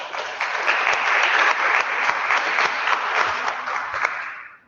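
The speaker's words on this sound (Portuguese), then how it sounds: "Me aplauden por ser breve," An audience at an academic conference on gender and private international law applauds steadily, a dense even clapping that holds for several seconds before quickly fading out, with no talk.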